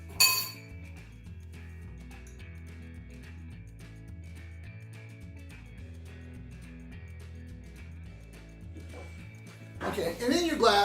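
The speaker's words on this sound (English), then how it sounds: "We'll add some ice. And we're going to give this a stir." Ice stirred in a glass while making an orange Sazerac cocktail: steady, close clinking of cubes against the glass runs under background music, ending in a louder rattling burst.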